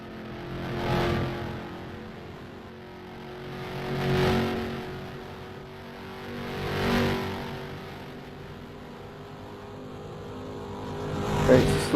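Race cars idling around a slow cool-down lap after a ROX Mods season finale at Goteborg, engines swelling and fading in three slow passes, each rising to a moderate peak and dropping away, with a sharper burst near the end.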